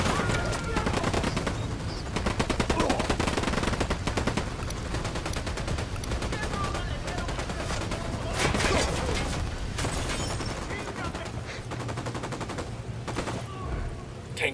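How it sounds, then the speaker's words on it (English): Sustained gunfire in the Ghost Recon Wildlands video game, dense rapid bursts and scattered shots running continuously at moderate level, with a voice speaking briefly over the shooting. "I'm opening fire."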